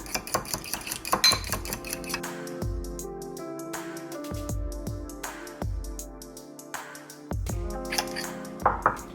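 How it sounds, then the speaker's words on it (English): A utensil stirs an Impossible Burger meat mixture in a pan, giving loud metallic clanks and ringing scrapes that repeat irregularly and sit close, with no talking. "And now we just want to stir this. Mix it all together, mix it all together."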